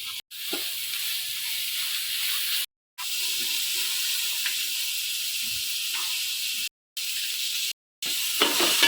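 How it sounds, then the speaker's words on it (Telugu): Spice paste frying in a pan for a fish curry, a loud, continuous close sizzle broken by several abrupt silent gaps, with faint stirring underneath. "ఈ పేస్టు పచ్చివాసన పోయే వరకు వేయించుకుందాం."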